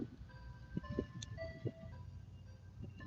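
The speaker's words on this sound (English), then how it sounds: "I was going past the ice cream truck" Ice cream truck jingle drifting past on an evening street, a faint tinkling melody with a few soft clinking notes under quiet ambient noise.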